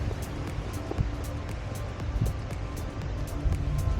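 Water pouring down the spillway below a large dam, a steady broadband roar with gusty wind noise against the microphone and no other sounds on top.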